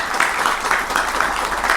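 Studio audience gives a steady round of applause to welcome a well-known YouTuber as a guest on an interview show, continuous clapping close by with no talking over it.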